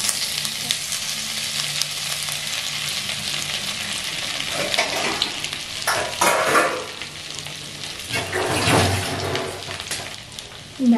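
Chopped ginger and cashews fry in hot oil for a sweet pulao, a loud continuous sizzle with a few stirring scrapes and bursts of spattering toward the end.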